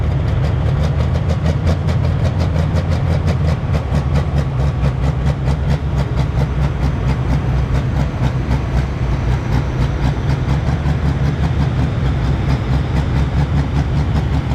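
A loud heavy pro stock pulling tractor engine roars continuously and steadily at a tractor pull, a deep rumbling drone that holds throughout without pause.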